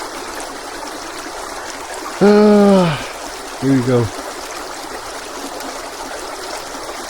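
A fresh, crystal-clear stream flows steadily on a morning walk past a lane of potatoes, a constant gentle rush heard close throughout while someone speaks briefly over it.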